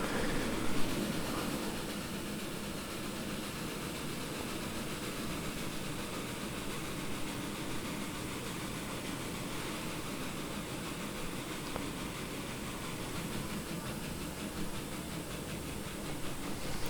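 A steady, rumbling hiss of a video game steam locomotive, an R&N 425 4-6-2 in Trainz 2019, chugging along continuously, with a dense mechanical roar and no talking.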